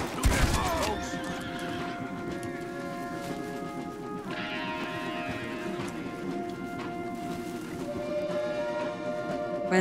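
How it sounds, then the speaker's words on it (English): Horses whinny loudly up close in the video game Red Dead Redemption, with a long shrill neigh at the start, hooves clopping and more neighing over a rumbling background. "I don't want to kill the horses."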